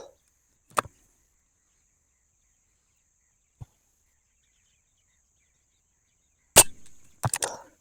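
Air rifle firing pellets at a target 100 yards out, heard as a few sharp, isolated cracks spaced apart in quiet outdoor surroundings, with two close shots near the end and no talking.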